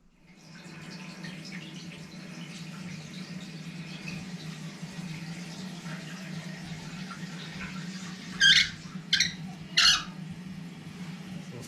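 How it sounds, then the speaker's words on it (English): A newly installed toilet filling with water after the supply valve is opened, heard as a steady hiss and rush throughout, with a few brief squeaks near the end and no talk. "we're gonna go ahead and turn on the water supply right here and check for leaks while we're doing it"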